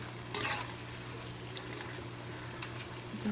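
Potato bhaji frying in hot oil send up a busy bubbling sizzle, with a louder splattering burst near the start and scattered crackles above a low background hum.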